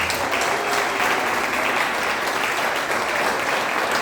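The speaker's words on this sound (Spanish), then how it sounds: "Este aplauso fuerte al Señor." A church congregation breaks into loud, sustained applause, many hands clapping together densely and continuously throughout, with nothing else standing out over it.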